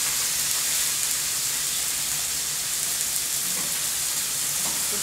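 Squash and vegetables sauté in a pan, giving a continuous, even sizzling hiss with faint clicks throughout, heard close and alone without talk.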